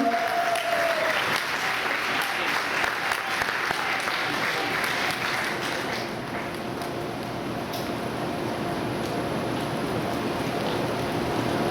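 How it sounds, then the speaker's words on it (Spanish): An audience at an evening testimony gathering applauds to welcome a speaker, a dense, sustained roar of clapping that stays full throughout and eases slightly toward the end. "Un fuerte aplauso, por favor."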